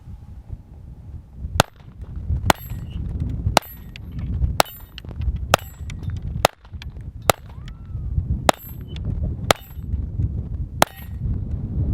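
A Taurus TX22 pistol fires Remington Thunderbolt rounds at a range, about ten sharp, loud single shots spaced roughly a second apart, each with a brief ringing tail.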